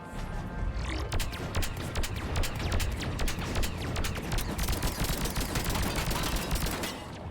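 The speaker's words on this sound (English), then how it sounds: "The gun, though. That'll hit." Rapid, dense gunfire from a gun in Mass Effect 3 rattles on steadily for several seconds, close and loud, with sharp overlapping shots over a constant roar of combat.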